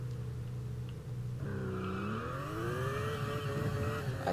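Porsche Panamera engine in the Test Drive Unlimited racing game, a steady drone that climbs smoothly in pitch as it revs up, continuous and moderately loud with no talk.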